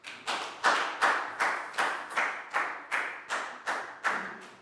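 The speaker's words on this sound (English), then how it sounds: "a big round of applause for everyone because you all did a fantastic job" Students in a Year 4 maths class clap together in about ten sharp, evenly spaced bursts, a clear rhythmic round of applause with no talking.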